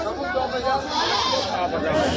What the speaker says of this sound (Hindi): क्या ये छोटा वाला बकरा है?